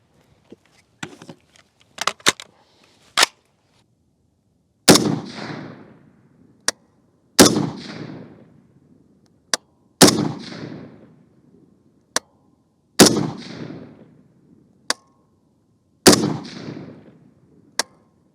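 Five sharp gunshots from the Orca rifle, fired as a group at a steady pace a few seconds apart, each loud crack trailing off in a short echoing decay. A few small clicks and handling noises come before the first shot.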